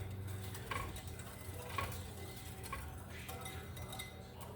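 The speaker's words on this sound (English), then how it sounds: "I am going to take my whisk and start stirring" A whisk stirs Jell-O powder into boiling water in a bowl, giving faint, quiet clinks and light taps against the sides in an uneven rhythm.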